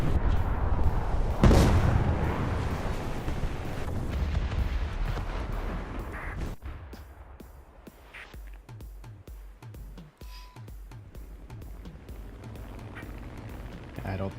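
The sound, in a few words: torpedo launch in War Thunder naval battle, video game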